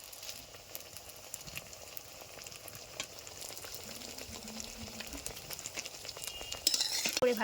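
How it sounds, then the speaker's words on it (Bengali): Malpua pancakes deep-fry in hot oil with a steady, fairly quiet sizzle and bubbling that grows a little louder and busier toward the end. "লাল লাল করে মালপোয়াগুলি ভেজে নেবেন, খুব সুন্দর হবে খেতে।"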